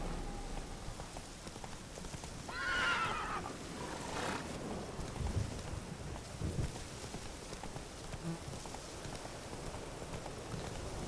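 Roach the horse in The Witcher 3 rears up and lets out a short, fairly clear neigh that rises briefly over a steady wash of rain and scattered hoof thuds, with no talk.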